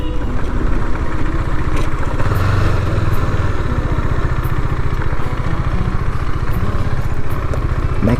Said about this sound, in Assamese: বাইকখন ৰখাই লওঁ